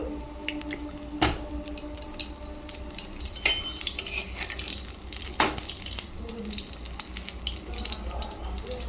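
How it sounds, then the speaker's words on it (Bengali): Mughlai paratha frying in oil in a home kitchen, a steady soft sizzle broken by a few sharp clinks and scrapes, close and fairly quiet with no talking. "ভালো করে ভেজে নেব মোগলাইগুলো।"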